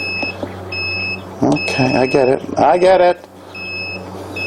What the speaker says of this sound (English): And I better close it because now my alarm's going off.